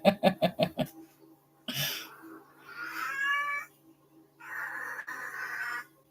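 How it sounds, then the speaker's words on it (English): A cat meows loudly indoors in two long, drawn-out wails separated by a pause, following a quick run of rhythmic knocks; no talk over it. "I'm going to eat the cat next, since she won't shut up."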